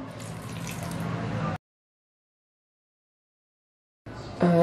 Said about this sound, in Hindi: 2 टेबलस्पून मैं पानी डाल दूंगी इसमें।